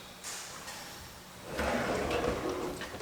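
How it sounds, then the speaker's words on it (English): A soft-close undermount kitchen drawer slides out of a custom cabinet with a quiet scrape at first, then a louder, steady rolling rumble from about halfway on, with no voices. "take out one of these soft close undermount drawers"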